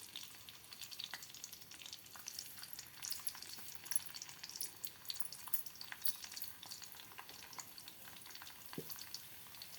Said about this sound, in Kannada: ಬೆಳ್ಳುಳ್ಳಿನ ಹಾಕ್ತಾ ಇದ್ದೀನಿ.